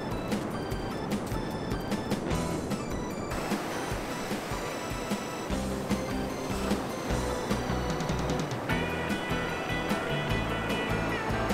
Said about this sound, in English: The waves are coming in and breaking nicely on the beach.